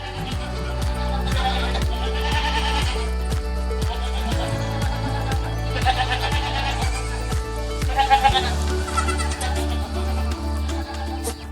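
Kashmir goats bleat repeatedly while their downy hair is combed out by herders, the calls overlapping a steady rhythmic thumping beat and layered background music.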